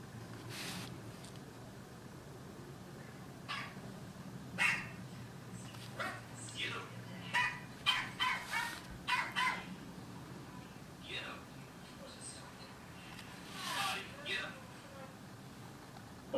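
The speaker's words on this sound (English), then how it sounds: "she's actually barking. That's full on bark." A dog barks repeatedly in sharp, separate bursts at moderate distance over a steady background hum, with speech heard among the barks during a home line-work drawing session.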